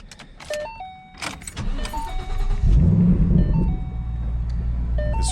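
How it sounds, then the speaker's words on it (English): Keys jangle and rattle in a few quick bursts, then a 2014 Shelby GT500 engine cranks and catches with a deep, loud roar that settles into a strong, rumbling idle close by. "I'm going to start up the car and then we'll get an exhaust clip for you guys."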